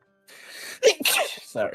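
One sharp sneeze bursts out nearby, followed immediately by a person speaking briefly.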